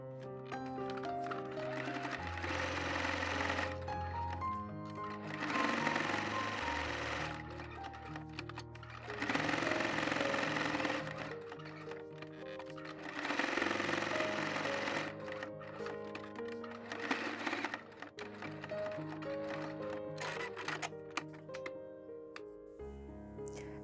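A sewing machine runs in long steady bursts of rapid stitching around the edge of a fabric tea coaster, with brief pauses between runs, fairly close and continuous over background tones.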